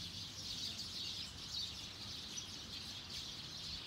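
Hundreds of sparrows roost together in a leafy tree at night in Tsukuba City, Japan, a faint, continuous mass of high chirping that forms a constant dense chatter.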